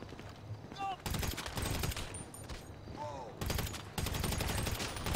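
Bursts of special carbine and SMG fire in the GTA 5 Online video game rattle in rapid automatic volleys, two longer bursts and shorter ones separated by brief lulls, with a voice speaking between them.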